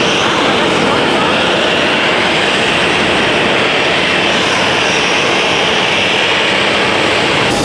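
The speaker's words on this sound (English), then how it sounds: "So we just saw a Boeing 737-800 taxi in on the gate." A Boeing 737-800 airliner taxis in to the airport gate, a loud, steady jet engine whine and rumble heard up close without a break.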